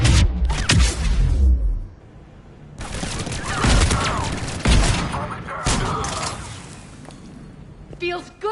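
Video game gunfire erupts in loud rattling bursts, with booming shots and crackling volleys that fade into scattered fire, while a voice talks over parts of the battle.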